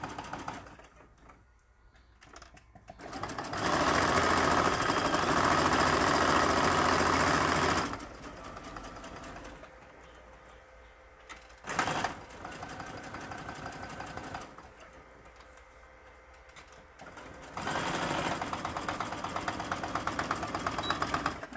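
A sewing machine stitches fabric for a lip balm key ring, whirring steadily in several sustained runs separated by quieter pauses with light mechanical clicks.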